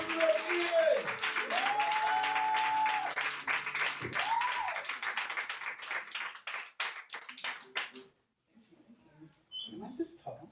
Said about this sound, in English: Keep clapping it up, Edith!